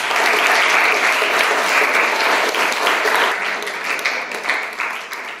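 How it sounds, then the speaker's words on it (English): A school audience gives sustained, dense applause to welcome a speaker, loud and continuous throughout with no talking over it. "Let's welcome the powerful woman with a huge round of applause."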